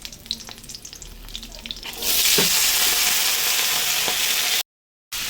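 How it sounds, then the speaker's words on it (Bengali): Nigella seeds and three green chillies dropped into hot oil for tempering: soft kitchen sounds, then a sudden loud, steady sizzle that holds close by before the sound cuts out briefly near the end. "এখানে আমি এখন দিয়ে দেবো হচ্ছে একটুখানি কালো জিরে আর 3টে কাঁচা লঙ্কা ফোড়ন দিয়ে দেবো।"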